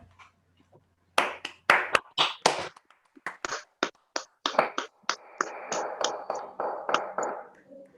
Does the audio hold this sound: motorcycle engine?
no